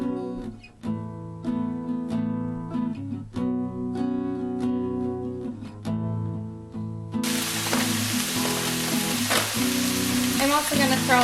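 Sesame oil heating in a pan ahead of cauliflower rice and peas, first under background music, then a bright, hissing sizzle that swells in the final seconds.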